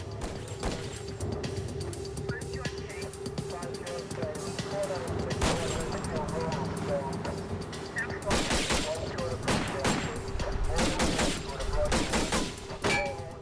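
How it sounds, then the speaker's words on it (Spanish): Gunfire from rifles and pistols in a reenacted 1985 FBI siege shootout in Arkansas, with clusters of sharp shots and rapid volleys under dramatic music and background noise. "el conductor saca un rifle y comienza a disparar"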